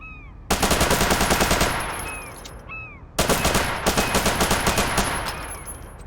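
UMP submachine gun firing full-auto in a video game: two long, loud rapid-fire bursts, each lasting a few seconds with a fast even rattle, separated by a short pause, without any talk.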